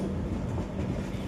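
North East Express rolling into New Jalpaiguri station, a dense steady rumble of railway carriages and wheels on track, close and continuous with no talk.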